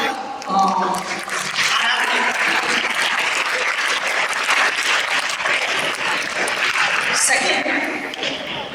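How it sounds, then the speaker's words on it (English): An audience claps through a Republic Day school program, with dense applause filling the whole stretch while voices and cheers rise over it. "So a big round of applause for the"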